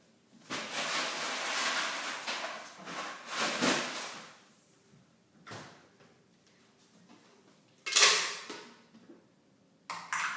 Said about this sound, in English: First, I need to get the ice and put it in the blender.